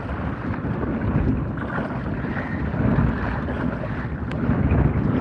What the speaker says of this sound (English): We've got a lot of wind.